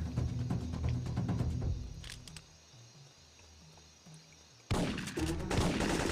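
Bursts of rapid gunfire from the PS1 video game Syphon Filter 3, a dense volley at the start, a quieter lull with softer game sounds, then another loud burst of shots near the end.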